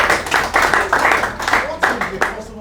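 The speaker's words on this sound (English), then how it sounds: "Give her a round of applause." A small group claps at a sales training session, short uneven bursts of hand claps close by, with voices present between them.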